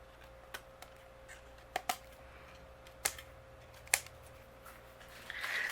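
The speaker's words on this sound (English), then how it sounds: "I'm going to use my scissors, and we're just going to trim those away" Scissors snip away overhanging flower stems on a handmade greeting card, a few sharp, isolated cuts spaced irregularly against a quiet room, with a faint rustle near the end.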